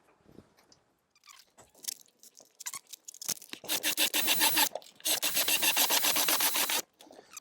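A slow drill bores into a wooden workpiece for a biodegradable tree guard, with scattered scrapes and knocks giving way to two long, loud, grinding runs of drilling nearby, no voices.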